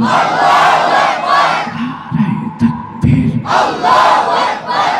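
A large crowd at an Islamic sermon gathering loudly chants the slogan Nara-e-Takbir, with repeated bursts of shouting voices and a brief lull between them, the sound close and full.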